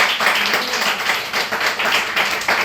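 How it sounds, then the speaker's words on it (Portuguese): A church congregation at a Nova Vida service bursts into dense, sustained applause, many hands clapping together in a continuous wash with no voices above it. "E diga glória a Deus e aplauda ao Senhor."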